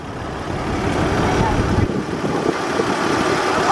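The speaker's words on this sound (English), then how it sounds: "Dude, the motor sounds great." A Mercedes C36 AMG engine runs at a steady idle, giving a low, even rumble that stays close and constant for a few seconds without clear revving.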